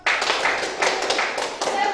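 High school students clap together in a quick rhythmic spirit clap, a close, crisp burst of several sharp claps in unison with voices shouting along.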